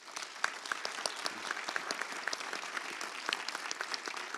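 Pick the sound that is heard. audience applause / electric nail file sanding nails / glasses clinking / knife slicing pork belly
audience applause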